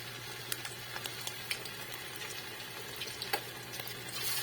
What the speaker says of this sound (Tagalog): At magpainit na po tayo ng mantika. Lagay na natin ang ating balon-balunan.